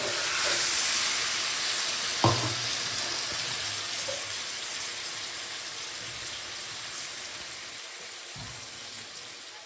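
Water hits a pan of spice masala frying for a Bengali hilsa fish curry, giving a steady broad hiss and sizzle throughout, with a couple of brief clinks from the bowl.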